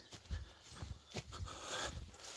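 A horse and a mare move about on grassy pasture, with a series of irregular soft hoof thuds and shuffles at close range over faint outdoor background.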